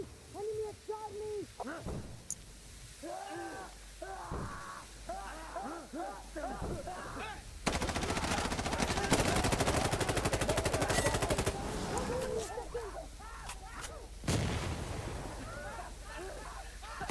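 Gunfire in Insurgency Sandstorm, bursts of shots under players' shouted talk, then a long sustained stretch of heavy firing in the middle before the voices return.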